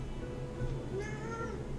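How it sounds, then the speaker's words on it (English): A cat in the video game Genshin Impact gives soft, drawn-out meows over quiet background ambience, with a brief higher mew near the end. "I think this cat wants some attention."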